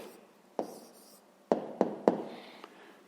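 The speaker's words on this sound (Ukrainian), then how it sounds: "Пишемо відповідь." A pen scratches an answer onto paper in a few short, sharp strokes separated by pauses, close and distinct over a quiet background, with no talking.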